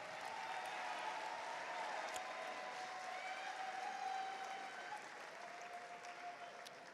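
Steady, sustained applause from a large audience at a high school commencement ceremony, a continuous dense wash of clapping heard from a distance, fading slightly toward the end.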